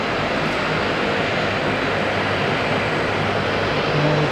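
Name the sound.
Texel freighter aircraft at Auckland International Airport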